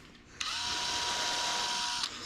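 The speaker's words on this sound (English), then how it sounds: "And then the head comes off, just like drilling like a regular rivet, right?" A drill bores through the head of a rivet on a Cummins short box truck, run dry without coolant or lube; a steady, high whine holds for about a second and a half, then stops.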